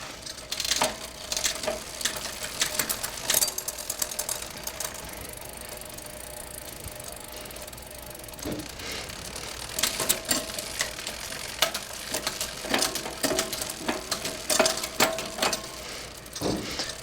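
A bicycle rear derailleur shifting through the gears on a work stand, a steady freewheel chain whir with repeated clicks and clunks as the chain jumps cogs, close and fairly loud, with no talking.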